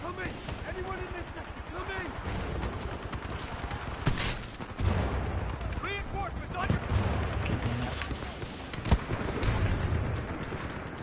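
AK rifle fire in Titanfall 2, repeated heavy shots and bursts running through a noisy firefight, with a couple of loud peaks and a player talking throughout.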